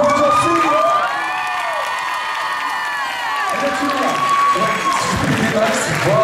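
An audience at a cosplay contest prize-giving at the Mang'Azur 2024 convention bursts into loud cheering, whoops and applause for a third-place winner, swelling at the start and again near the end, with a voice and ringing tones mixed in.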